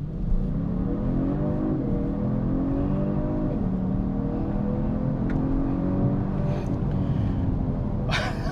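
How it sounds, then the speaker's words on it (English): A 2024 Genesis G70 rear-wheel-drive sedan launches hard in sport mode, its engine note climbing in a steady, loud drone heard from inside the cabin, without talk. "We're in sport mode, hold down the gas,"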